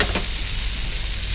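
Pieces of fish frying in a pan for an Andhra fish fry, stirred slowly, giving a loud, dense, steady sizzle with a faint scrape near the start.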